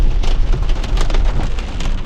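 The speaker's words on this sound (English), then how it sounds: "It's hail now." Hail falls during a monsoon storm, a loud, dense clatter and hiss of stones striking the ground, continuous and close for a short stretch, with no speech.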